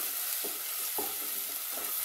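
Chicken frying in hot oil in a pan, a steady hiss of sizzling with occasional stirring scrapes, close and continuous with no one talking.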